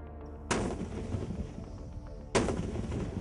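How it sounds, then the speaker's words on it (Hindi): Gunfire and rocket blasts at night on the India-Pakistan border: two sharp, loud bangs about two seconds apart, each followed by a heavy rolling rumble, with a constant low roar of distant firing in between. "गोलियों की तड़तड़ाहट, रॉकेट के धमाके"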